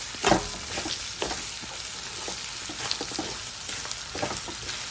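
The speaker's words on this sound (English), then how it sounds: "But yes, we are frying the rice." Oil sizzles and crackles steadily in a pan as raw rice fries, with a few louder spits and stirring scrapes, no voices.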